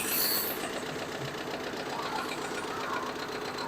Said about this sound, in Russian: Мотор работает ровно.